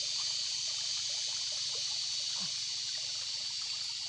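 Released water trickles and flows steadily down a small stream toward a fish trap, a constant, even rushing with light gurgles and no pauses.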